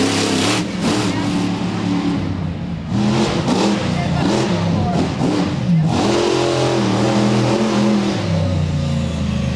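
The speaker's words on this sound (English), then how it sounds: "Koehler is in the deep pit, mud bogging the Avenger truck." A monster truck engine revs hard and loud while mud bogging in a deep pit during a freestyle event, the roar rising and falling continuously with a commentator talking over it.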